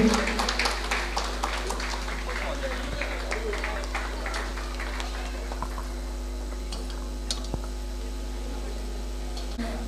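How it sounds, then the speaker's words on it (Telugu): An audience claps at a Shri Ram Navami prize distribution function held by a Padmashali Samaj trust, the applause a dense patter that starts strong and fades as a person speaks over it. "గట్టిగా చప్పట్లు."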